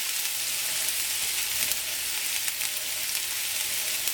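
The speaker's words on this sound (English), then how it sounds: "I'm going to add about a tablespoon of oil. And then we're going to put our onions in." Onions fry in about a tablespoon of oil in a hot pan, a steady bright sizzle with small crackles throughout, close and continuous with no talking.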